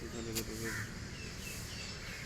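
Large parrots in an aviary at the Lahore zoo give harsh, squawking calls in short bursts, with someone talking over them.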